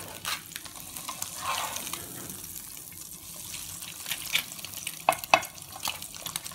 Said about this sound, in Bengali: তো এই যে ডিম ভাজি হইতেছে